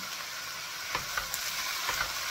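Vegetables for Japanese yasai itame stir-frying in a pan, a soft continuous sizzle with a few sharp clacks of utensils tossing the food.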